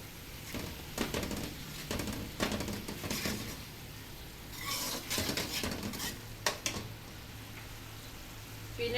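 Tomato pressed and mashed into a paste in a pan with a spoon for masala baingan, giving repeated scraping, squelching strokes in bursts over a soft sizzle, close by and with no talk.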